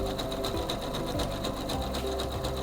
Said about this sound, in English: It sews a few tie-off stitches and then resumes sewing the stitch.